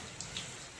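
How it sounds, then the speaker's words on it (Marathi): Rain falls steadily, a soft even hiss with a couple of faint drip ticks, heard briefly and quietly. "मस्त पाऊस पडत आहे."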